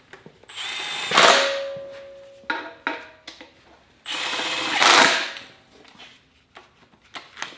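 Milwaukee power tool driving fasteners on a Holley 302-3 oil pan for an LS swap on a Nova: two loud whirring bursts of a few seconds each, separated by clicks and handling knocks, close by.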